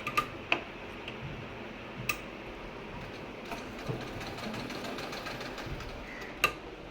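A sewing machine stitching a blouse hums quietly and steadily with faint rhythmic ticking, punctuated by a few sharp clicks, heard alone at a low level throughout.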